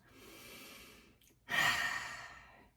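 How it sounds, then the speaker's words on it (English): One person breathes in deeply, then lets out a long, breathy exhale that is louder than the inhale, close and quiet, with no speech. "that always starts with a deep breath"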